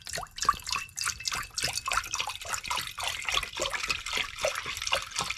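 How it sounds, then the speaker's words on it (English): Beef stock being poured into a crock pot while making American chopped suey, a steady liquid trickle and splashing that runs throughout at moderate level, close by, with no talking. "The first thing you want to do is add 16 ounces of beef stock."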